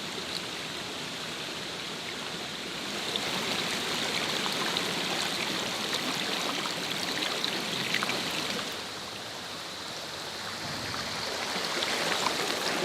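Water in a stream rushes and burbles steadily, a full, constant wash of sound that swells slightly partway through, with no voices.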